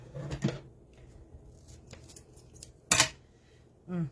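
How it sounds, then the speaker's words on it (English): Scissors snip while a rainbow pastel welcome wreath is being made: a few quiet, sharp cuts spaced seconds apart, with soft handling rustles in between. "I gotta get rid of these bad scissors"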